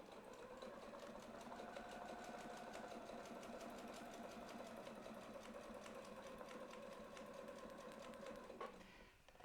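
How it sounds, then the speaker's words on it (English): A sewing machine stitches a quilted spiral in a continuous, rapid, even whir, fairly quiet and unbroken until it slows and stops near the end. "And we're going to sew the next one."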